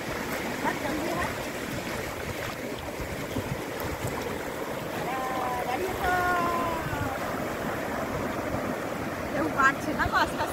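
People wade through shallow sea water at a beach, with a continuous wash of surf and splashing under faint voices and wind.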